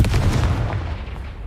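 Confringo fire spell blast in Hogwarts Legacy, a single loud booming burst with a deep low rumble that fades over a second and a half.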